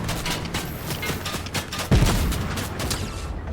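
Gunfire in a Fortnite match: a sustained, dense run of shots fills the whole stretch, with one heavier blast near the middle and the firing carrying on after it, with no talk over it.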